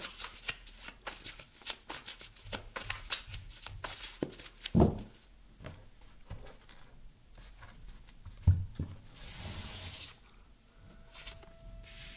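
Tarot cards are shuffled and laid out in a steady run of close, soft riffling and papery slaps, with a few sharper card drops and flicks, and no voice over them.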